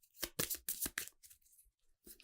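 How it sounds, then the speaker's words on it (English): A deck of playing cards being shuffled up close, with several quick riffling and snapping bursts, a short pause, then one more riffle. "We'll go ahead and shuffle up."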